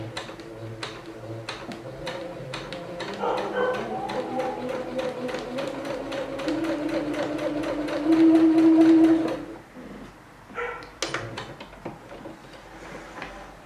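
Sewing machine stitching fabric and ribbon for a pin cushion, a steady rapid mechanical ticking that runs close for about nine seconds, then stops before a few faint clicks.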